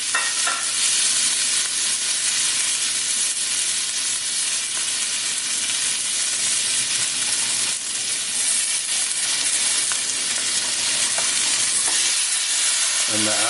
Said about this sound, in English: you can hear it sizzling, that's the onions and the garlic.